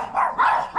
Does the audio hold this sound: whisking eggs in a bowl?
no